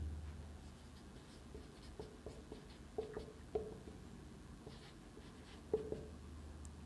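Pen writing on paper while maths is worked out, heard as faint, close scratchy strokes in uneven short bursts against a quiet hiss, with no talking over it.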